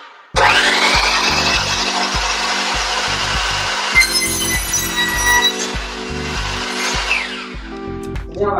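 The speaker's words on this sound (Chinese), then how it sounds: "所以我们要把这边这儿给它锯掉，锯起来就是这个样子" A hand saw rasps back and forth through the tongue of a wooden floorboard in steady, even strokes, loud and close with no talking over it.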